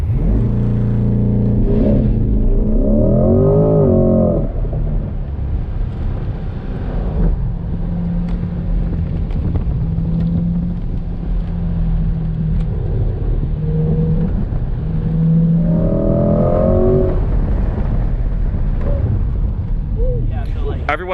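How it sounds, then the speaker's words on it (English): A Chevrolet C8 Corvette Stingray on a track, its engine droning steadily and rising in pitch as it accelerates, close and loud throughout, with a voice talking over it at times. "it's like to drive a C8 Corvette on the racetrack"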